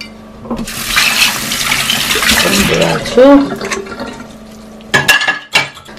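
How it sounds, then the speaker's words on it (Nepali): Water drains and pours off cooked spicy Korean ramen noodles in a pot, splashing steadily for a few seconds and then tapering off before sharp clanks of the pot. "यसको पानी मजाले तैरिन दिम यसलाई"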